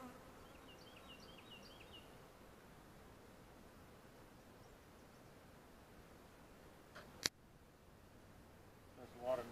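Honeybees buzz steadily around an open beehive during a hive inspection, a soft continuous drone close by, broken by one sharp handling knock near the end.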